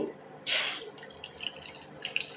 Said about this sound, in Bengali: অল্প একটু পানি দেবো